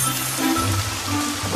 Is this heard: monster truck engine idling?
no